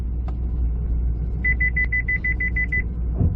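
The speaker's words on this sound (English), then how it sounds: "the beeping's gonna sound" A rapid series of high, evenly spaced electronic beeps from a reversing 2014 Chevy SS, heard over a steady low engine rumble.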